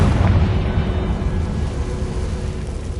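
Blasting fire spell in Hogwarts Legacy, a loud, dense boom rolling straight into a sustained roaring rumble that stays heavy and close for the whole stretch, with no voices over it.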